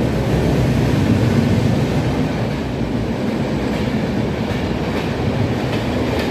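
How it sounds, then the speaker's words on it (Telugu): A passing train near Tenali Junction gives a loud, steady rumble with rolling wheel noise as it overtakes alongside on a parallel track, heard from close by with no talking. "మనతో పాటు ఏదో ట్రైన్ అయితే ఓవర్టేక్ అయితే చేస్తుంది"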